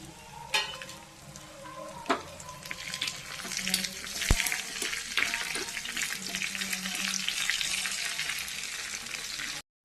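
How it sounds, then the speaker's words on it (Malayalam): Curry leaves crackle and sizzle in hot oil while tempering for an Angamaly-style mango curry, a dense steady frying hiss with sharp pops and spatters, close and fairly loud, continuous throughout. "വേപ്പില ഇട്ട് കൊടുക്കാം നമുക്ക്."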